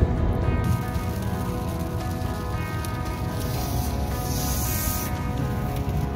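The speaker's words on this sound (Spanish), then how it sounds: "De pronto, el mal tiempo empeoró y la lluvia llegó." Rain pours onto a car during a drive in bad weather, a dense, even patter of drops hitting the body and windows with road rumble underneath. It stays loud and constant throughout, and no one speaks.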